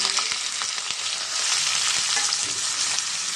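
Onions frying in about five spoons of hot oil in a pan, a close, steady hiss and crackle with a few stirring clicks.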